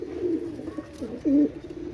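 Pakistani pigeons for sale, a pair of Teddy-type birds, cooing in a low, rolling burble that swells into a louder coo near the end, close by and without talk.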